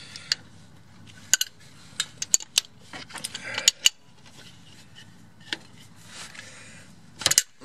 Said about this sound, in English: Let me just grab the wrench